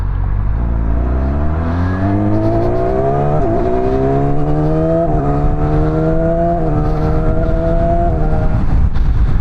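2025 Yamaha R6 600cc motorcycle engine accelerating hard, pitch climbing through several gears with brief dips at each shift, loud and close with heavy wind noise.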